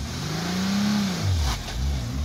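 A car engine revs and launches at a cars-and-coffee meet, pitch rising then dropping, with a brief sharp front-tire chirp partway through; loud and close.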